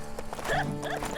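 Horse in LEGO Marvel Super Heroes 2's Old West setting, with a short whinnying neigh over light hoof clip-clops, close and moderately loud.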